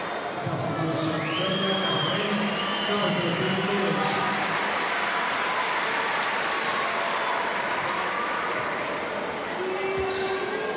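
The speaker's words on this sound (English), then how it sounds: "Listen to the reaction from this partisan crowd" A partisan Serbian crowd at a basketball game against Belgium roars in a sustained, dense wall of cheering and shouting that stays loud throughout, with whistles and a commentator's voice mixed in.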